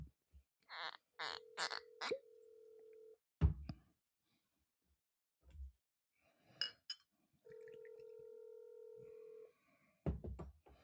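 A telephone ringback tone on an outgoing call repeats as two long steady electronic rings with gaps between them. Other brief sounds come before them, and clattering noise follows.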